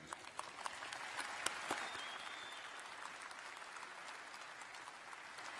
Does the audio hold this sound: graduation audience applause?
yes